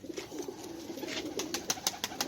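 Black-faced pigeons on a Sialkot rooftop loft give a series of soft, close coos, growing louder and more regular toward the end over a low rumbling background.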